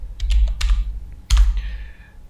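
The ifconfig command typed on a computer keyboard for a CentOS server: a short, close burst of crisp key clicks in two quick clusters, with no voice.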